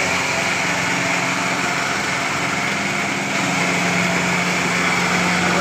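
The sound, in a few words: Mahindra tractor engine driving away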